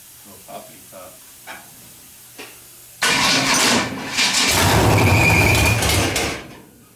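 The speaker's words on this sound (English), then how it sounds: "Why is the belt squealing now" A truck engine cranks and fires up after a few quiet clicks, then settles into a loud, steady run with a high squealing belt layered over the idle, fading slightly toward the end.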